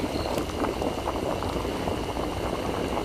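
A pot of bánh tét rice cakes boils vigorously, filling the space with a dense, continuous bubbling rumble and churning water that stays steady and close throughout.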